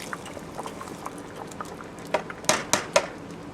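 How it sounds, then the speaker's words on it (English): Creamy ham and potato soup simmering in a pot as potatoes go in: a low bubbling wash with a few sharp splashes and clinks near the end, close and fairly quiet, no talking. "this has been simmering for about 15 minutes, so now it's time to add in our potatoes"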